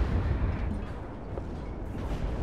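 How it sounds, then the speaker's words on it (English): Deep rumbling booms of artillery fire and shell impacts in the video game WARNO, a low, continuous barrage heard at a distance without distinct separate blasts. "Oh, artillery coming in it as well."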